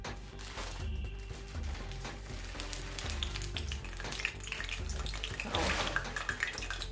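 Water spatters into hot frying grease in a pan while fried chicken and butter beans are being cooked, giving a loud, close, continuous sizzle with sharp crackling pops throughout.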